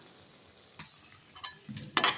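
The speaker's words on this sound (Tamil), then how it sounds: "அப்படியே இது பொறிஞ்சிக்கிட்டே இருக்கட்டும்" Leftover idli pieces frying in oil for chilli manchurian make a soft, steady sizzle broken by a few sharp spatula scrapes and stirring clinks that grow louder toward the end.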